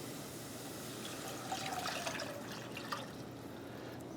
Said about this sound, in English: I'm just going to pour my chicken stock in.